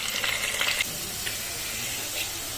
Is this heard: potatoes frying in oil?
yes